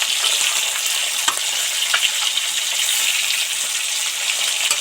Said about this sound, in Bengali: আস্তে আস্তে মাছগুলো মোটামুটি ভাজা ভাজা হয়ে এসছে